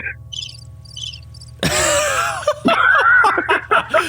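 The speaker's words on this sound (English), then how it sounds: "just cricket sound effects" A cricket sound effect chirps in quick, evenly spaced bursts over a low hum, then cuts off as loud laughter and lively voices break in.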